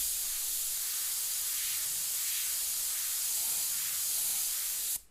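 Airbrush spraying custom paint at fairly high pressure, a steady bright hiss held for about five seconds before cutting off abruptly.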